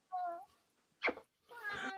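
A ragdoll cat meows close by, three times in a row, with short pauses between the calls. The last meow is the longest and loudest.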